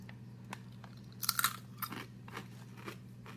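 Crunching bites of an expired snack nearly three months past its date, a few crisp, close crunches clustered together, then softer chewing over a low steady hum.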